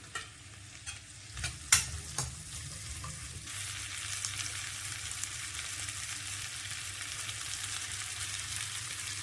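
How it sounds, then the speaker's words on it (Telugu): Green chillies hit hot oil in a kadai with a few sharp clatters and stirring knocks, then settle into a steady, close hiss of sizzling for the rest of the stretch. "ఇప్పుడు ఇదే కడాయిలో పచ్చిమిరపకాయలు వేసుకుందాం."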